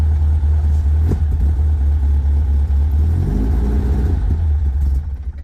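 A 1972 Toyota Corolla TE28 with carburetor and fuel pump trouble runs loud and close with a steady low engine drone, rising briefly in a rev before sputtering and dropping off near the end.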